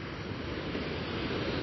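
Small waves from a dropping tide lap steadily at the shoreline of Hendra Beach, a continuous soft wash of surf close by with a light wind hiss and no voices.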